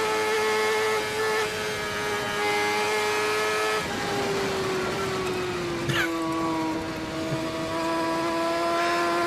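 Peter Hickman's superbike screams at high speed on an Isle of Man TT lap, heard from onboard as a loud, sustained high engine whine that shifts pitch slightly through gear changes, with wind roar beneath.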